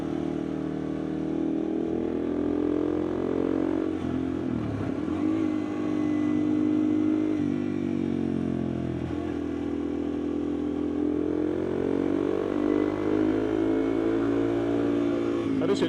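Motorcycle cruising the twisting curves of the Tail of the Dragon road, a steady engine drone rising and falling with throttle through the bends, close and continuous, with faint voices now and then.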